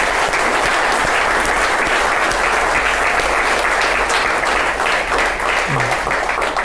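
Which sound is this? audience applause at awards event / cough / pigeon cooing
audience applause at awards event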